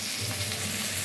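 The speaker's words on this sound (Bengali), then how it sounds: "লঙ্কা কুচি আর টমেটো কুচি দিয়ে নেড়ে নিচ্ছি।" Chopped onion, green chili and tomato fry in a pan with a steady, dense sizzle that fills the whole second, close and even with no talking.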